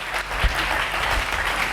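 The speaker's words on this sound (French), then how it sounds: "Nous acclamons pour le roi des rois." A church congregation at a sermon applauding together, a dense, loud, steady wash of clapping hands filling the short stretch without a break.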